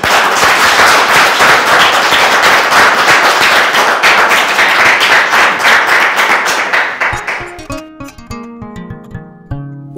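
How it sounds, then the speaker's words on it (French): Audience applause at a health district project validation in the Central African Republic: a dense crowd clapping loudly for about seven seconds, then thinning out into a few scattered claps. "Si on a validé, on acclame."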